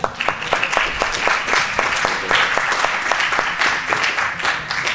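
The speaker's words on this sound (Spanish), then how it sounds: "El aplauso que sea para todos" An audience in a lecture hall applauds steadily, many hands clapping at once in a dense, even burst that holds for several seconds, with no speech over it.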